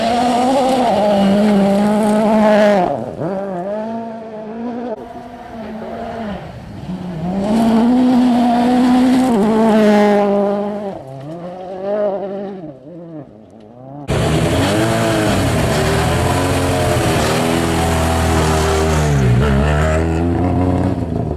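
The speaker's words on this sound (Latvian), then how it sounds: "Tur ir mašīna." A car drives by with a loud, sustained engine note that rises and falls through the gears in repeated revving sweeps, with a brief drop before a louder, closer stretch of engine roar.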